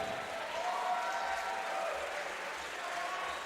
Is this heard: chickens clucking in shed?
no